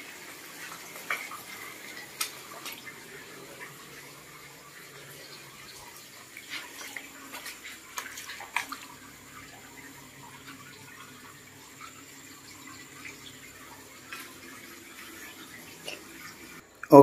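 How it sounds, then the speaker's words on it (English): Water trickles and pours into a cleaned carp pool, a soft steady flow with faint scattered splashes and drips, quiet and somewhat distant, no voices heard. "now is the time to put water and put salt"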